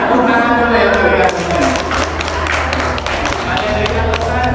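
Audience of mothers clapping hands at an Indonesian parenting session, a dense burst of many claps running steadily for a few seconds, with voices speaking over it.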